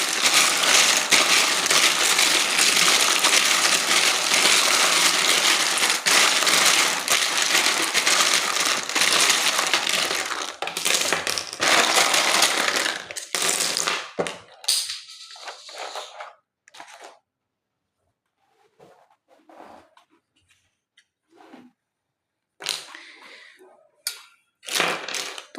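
Tarot charms are shuffled by hand, a dense loud rattling and clattering for about fourteen seconds, then trailing off into scattered clinks separated by silences.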